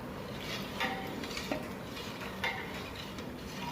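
A metal spatula stirs thick pav bhaji gravy in a large pan, a big batch for about 80 people. Soft scraping strokes land every second or so over a low background sizzle, with no talk.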